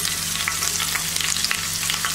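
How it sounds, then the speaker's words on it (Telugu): Cumin seeds and green chilies fry in hot oil, giving a steady, close crackling sizzle with small pops throughout and no voices. "ఆయిల్ వేడయ్యాక జీలకర్ర వేసేసుకోండి. జీలకర్ర వేగాక పచ్చిమిరపకాయలు,"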